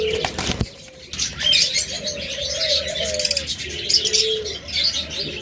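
Caged pet birds, cockatiel and budgerigar pairs, chirp and tweet in short bright bursts, with a lower cooing call and a brief flutter of wings near the start, close by and without speech.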